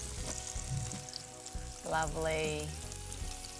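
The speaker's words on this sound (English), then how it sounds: "Hear them sizzling." Meatballs fry in a pan, giving a steady, close sizzle and crackle throughout, with a brief utensil clink and someone speaking over it.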